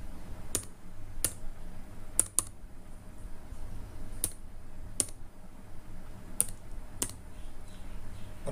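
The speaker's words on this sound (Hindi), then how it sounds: "मैं यहाँ SRN टाइप करता हूँ" Keys on a computer keyboard are struck one at a time while entering data on an online admission portal, about nine sharp, distinct clicks spaced irregularly over quiet room noise.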